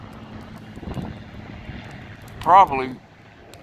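A propeller airplane flies overhead at Bishop's Beach in Homer, Alaska, a steady distant engine drone heard beneath a man's brief speech.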